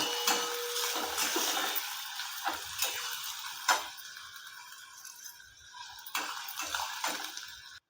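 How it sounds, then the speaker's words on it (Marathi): A large chopped onion sautéing in a pan for tadka chana masala gives a soft, steady sizzling hiss broken by light clicks and scrapes of stirring. The sound is close and fairly quiet, with no talking. "आता कांदा चांगला आपण परतून घेऊ."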